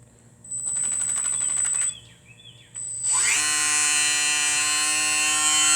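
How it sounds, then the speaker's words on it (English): An electric pump on a refurbished excavator switches on after a brief whirring sound, then settles into a steady, loud mechanical hum with a high whine that holds to the end. "Turning on that's the pump."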